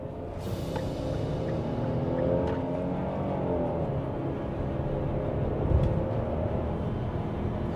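A Hyundai Palisade Black Edition with the 3.8 gasoline V6 and 4WD accelerates to about 100 km/h, its deep engine drone building steadily and continuously with no talk over it.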